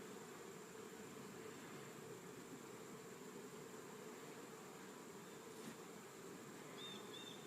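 Honey bees buzz steadily around an open hive during queen catching and marking, a faint continuous drone throughout with no talk.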